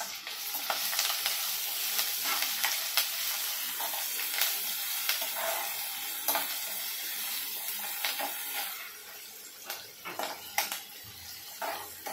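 Curry leaves, chili and garlic sizzle in hot oil with a steady, bright crackle, sharp pops scattered throughout and occasional stirring scrapes, close and alone.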